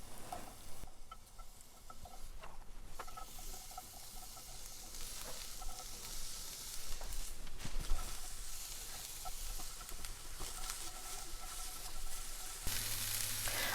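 Chopped onion chunks sizzling in a hot frying pan, a steady close crackling hiss with occasional stirring scrapes and clinks throughout.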